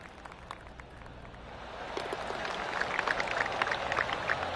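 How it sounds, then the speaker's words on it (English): Scattered golf claps from spectators around the course in a golf video game, distant and soft at first, then swelling into a fuller patter of applause. "I can hear the golf claps around the course"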